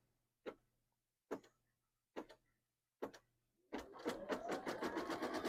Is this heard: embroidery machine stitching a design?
yes